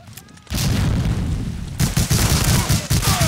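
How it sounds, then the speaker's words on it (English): A grenade blast in the video game Medal of Honor: Allied Assault, a sudden loud boom that rolls into sustained rumbling debris and scattered gunfire, with a second burst of crackling shots following. "Grenade."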